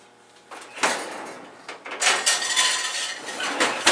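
A skillet-type pan is set into an oven to preheat, with a metallic clank and scrape, an oven rack sliding, and more rattling metal contact, fairly close.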